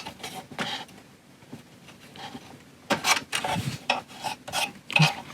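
Someone pries open the casing of a damaged shooting chronograph, producing irregular scraping and rasping bursts at close range, faint at first and then louder and busier in the second half.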